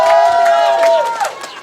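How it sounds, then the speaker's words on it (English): Crowd cheering and shouting at a bowling finals match, a loud burst of voices that fades over under two seconds. "He's down 21 pins. And the crowd loves him."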